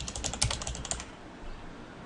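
Rapid, uneven keystrokes on a computer keyboard while filling in company and employee details in Excel 2016, a close and busy patter of clicks that thins out toward the end, with no talking.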